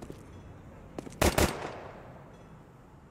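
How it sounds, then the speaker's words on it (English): Gunfire in a Counter-Strike 2 esports match, heard as a short loud burst of two or three rapid shots, with a fainter pop just before and a quiet tail after. "Dumao's just dancing, firing off shots."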